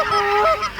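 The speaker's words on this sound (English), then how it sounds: "there's geese coming, look at them all" Geese honking close by during a waterfowl hunt, several overlapping nasal honks in quick succession, loud and clear with no talk.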